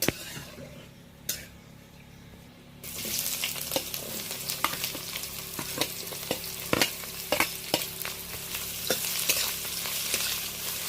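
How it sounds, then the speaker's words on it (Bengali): Chopped onion hits a pan of hot oil with whole spices, a quiet start and then a loud sizzle after about three seconds, with repeated sharp clicks and scrapes of stirring throughout. "ফোড়নের সাথে প্রথমত আমি পেঁয়াজটা দিয়ে দিয়েছি। পেঁয়াজটা বেশ নেড়ে চেড়ে লালচে করে নেব।"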